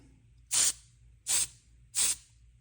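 Spray paint from a can, sprayed for modelling, in three short, sharp hissing bursts evenly spaced about three-quarters of a second apart, close and loud, with quiet between.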